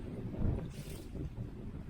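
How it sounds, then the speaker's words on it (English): Wind on an island beach rushes and buffets steadily at low volume, with a brief breathy gust in the middle and a soft rumble underneath. "Yeah, it's pretty windy."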